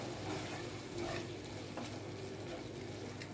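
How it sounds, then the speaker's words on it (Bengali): Beef kofta curry masala with salt being stirred in a pan, a faint, steady sizzle with soft scraping of the spoon throughout. "নেড়ে নিচ্ছি।"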